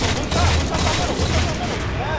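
Rocket fire blasts and dense gunfire fill a competitive video game match at a tournament, a constant loud barrage with players' voices talking over it.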